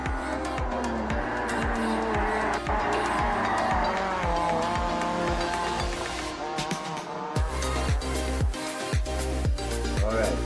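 Diecast toy cars race down a track in a contest between two teams. A rapid, even series of clicks and rattles rolls along under racing-style engine noise and excited commentary.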